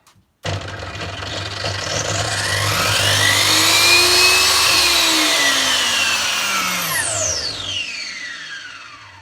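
An Excel 305mm compound mitre saw with soft start powering up: the motor's whine rises gradually in pitch and loudness, holds at a loud, steady close-range pitch, then winds down, with no talking over it.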